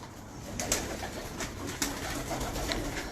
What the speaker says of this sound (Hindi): ये कबूतर सियालकोटी कबूतर है और मेरे घर का क्रॉस हुआ हुआ है